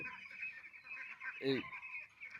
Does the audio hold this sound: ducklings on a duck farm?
yes